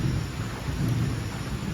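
Rolling thunder over steady light rain during an evening thunderstorm with lightning, a continuous low rumble and hiss heard from indoors by a window, with no voices.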